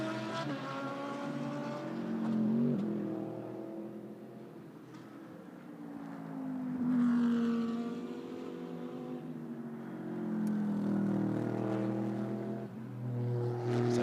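GT race cars circle the Suzuka circuit during a 10-hour endurance race, their engines rising and falling as they pass, with several waves of revving in the distance and shifting tone throughout.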